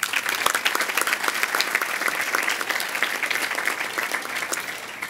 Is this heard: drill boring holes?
no